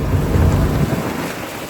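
Steady broadband rush of heavy rain and strong waves at sea during a storm, with a low rumbling surge, continuous and fairly loud throughout, fading slightly toward the end.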